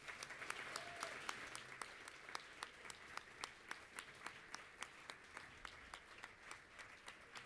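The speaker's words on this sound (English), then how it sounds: "I would ask you to please give yourselves a round of applause" Guests at a formal dinner applaud themselves, a steady wash of clapping from a large room heard at a distance, even and sustained with individual claps ticking through.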